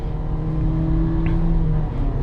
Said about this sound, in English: just regular throttle inputs, quarter throttle, half throttle, 3/4 throttle. This feels plenty zippy enough.